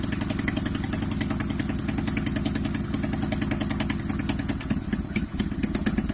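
Oka VAZ-1111 small engine idling steadily nearby, a continuous rhythmic clattering putter with a brief dip near the end, no talk.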